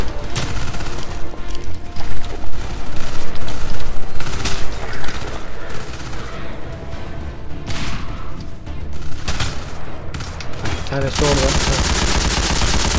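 Dense, continuous gunfire in the video game Half-Life 2 with a cinematic mod, with rapid overlapping bursts and explosions running loud throughout while someone speaks Turkish over the battle.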